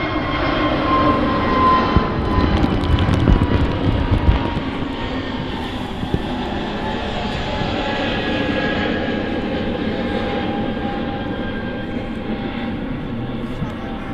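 A British Airways airliner takes off at Manchester Airport, its jet engine roar steady and broad, loud throughout with a slow swell, heard from outside without talk.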